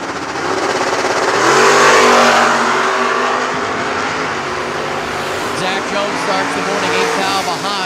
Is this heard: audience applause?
no